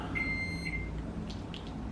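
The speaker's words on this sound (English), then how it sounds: "There goes the alarm." A thin electronic beep sounds briefly, followed by a few faint higher chirps over a quiet room hum.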